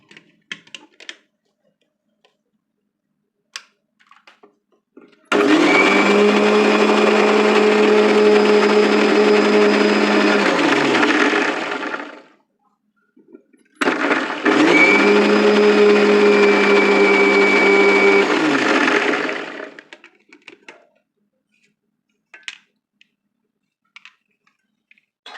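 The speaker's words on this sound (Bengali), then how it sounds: "দিয়ে প্রথমে আমি এটা ব্লেন্ড করে নেব।" Electric blender whirring oil into homemade mayonnaise sauce runs loud and steady for about seven seconds, stops briefly, then roars again for a second long stretch.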